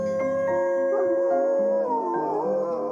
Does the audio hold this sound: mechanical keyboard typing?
no